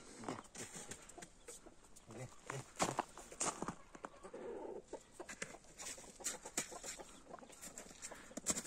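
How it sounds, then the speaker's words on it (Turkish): Chickens and a recovering rooster cluck and peck close by, soft irregular calls and scratching over a quiet yard, with a person speaking over them. "Bu da yeni GSG horozumuz, kırgındı, artık düzeldi."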